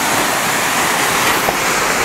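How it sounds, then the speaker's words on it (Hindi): Strong rushing water of a monsoon-swollen mountain waterfall in Uttarakhand, a loud, steady broadband roar filling the whole clip with no pauses, likely mixed with gusting wind. "देखो पानी का बहाव इतना तगड़ा है"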